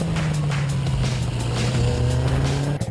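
A Honda XR650R motorcycle engine with an FMF muffler drones loud and close, a steady low exhaust note held throughout before a brief drop at the end.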